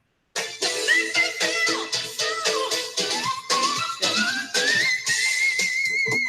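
A sustained, wavering whistled tone from a video game's whistle-tone profile, with tremolo pulses and a slowly rising, sliding pitch, loud and continuous.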